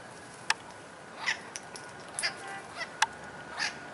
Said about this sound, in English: Have a good day, you quacking parrots.